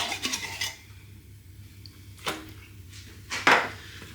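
Baked beans being stirred into bacon in a bowl for air-fryer beans on toast, a few soft utensil scrapes and clinks against the dish, with quiet gaps between them and no talking.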